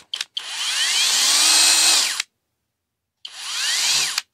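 A HOTO 12V cordless brushless drill whirs up in two bursts, a longer run then a short one, each stopping abruptly with silence between, close by.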